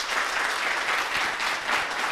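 Audience applause in a town hall youth forum on the electoral process: steady, dense clapping from a crowd continues throughout at a strong, even level, with no voices standing out.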